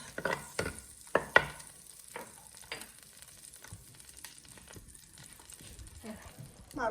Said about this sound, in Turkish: Yağımız ısındı. Şimdi sarımsaklarını ekliyoruz.